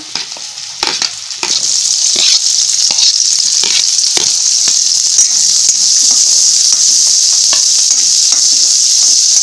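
Cut onion fries in hot oil for a peas and soya chunks masala, a loud, close, steady sizzling hiss that swells after the first second, with occasional stirring clicks and scrapes.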